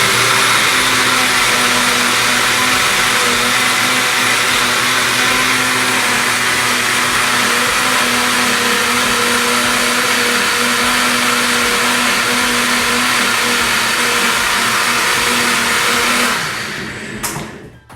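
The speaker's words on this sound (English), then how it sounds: "I usually let it go until my oatmeal is blended." A kitchen blender whirs loudly and steadily, blending oatmeal for gluten-free protein pancakes, a sustained high-pitched motor drone that holds for a long stretch with no voices before cutting off abruptly at the end.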